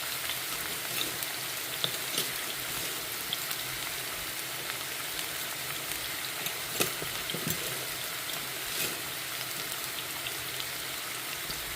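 Vermicelli sautés in a pan, giving a soft continuous crackling sizzle with occasional faint stirring taps, fairly quiet and without talk.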